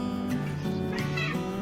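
A cat meows repeatedly and insistently, close by, its calls drawn out and tonal over a steady background hum.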